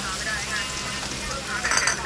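Steady loud sizzling of blended chili and garlic paste frying in hot oil, a continuous crackling hiss with a brief stirring scrape near the end.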